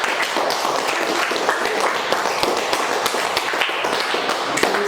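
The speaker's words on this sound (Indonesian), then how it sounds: "Tepuk tangan buat kelompok 4." Classroom applause for a student group after a frog life cycle poster presentation, many small hands clapping in a dense, fast, uneven patter with sharper taps scattered through, close and fairly loud.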